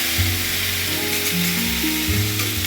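Ginger paste frying in a pan, a dense steady sizzle with a low hum and shifting tonal drones underneath, close and fairly loud, without talk.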